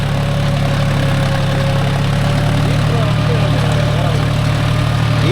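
A John Deere 5050D 4WD tractor pulls a five-point cultivator through a field, its diesel engine droning steadily and loudly under load with a constant low hum and no break.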